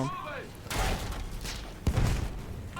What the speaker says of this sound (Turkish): iki tane bomba aynı anda gelemez ya ya.